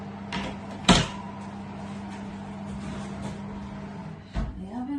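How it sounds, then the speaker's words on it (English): An oven door thumps shut once with a sharp clunk near the start, close by, over the steady hum of a running oven, followed later by a softer knock. "Shut the oven, turn it off."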